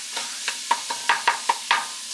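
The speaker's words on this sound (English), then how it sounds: "we're going to saute this until they start turning" Swiss chard sautés in a pan with salt, giving a soft sizzle and a quick series of about nine scraping stir strokes close by. There is no talking.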